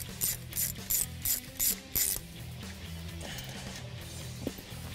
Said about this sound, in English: We're gonna start though by removing this top bolt right here.